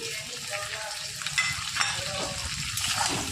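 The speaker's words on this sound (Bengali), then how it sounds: "ভালো মতন ফ্রাই করে নেব।" Onions fry in a pan with a continuous, fairly loud sizzle, joined by occasional stirring scrapes and a brief rush of bubbling.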